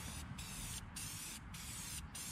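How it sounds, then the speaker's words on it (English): An aerosol can sprays a base coat in several short hissing bursts, close and continuous with brief pauses between them, and no talking. "What did you just spray the air for?"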